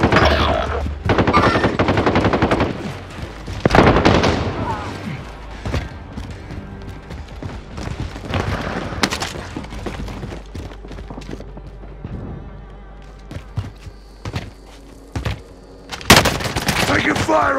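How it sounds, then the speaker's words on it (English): Call of Duty Warzone gunfire, with sharp bursts and rapid machine-gun volleys coming in several clusters over a busy game soundscape of clicks and mechanisms, loud and close at times, with occasional talk in between. "Taking fire over here. Taking shots."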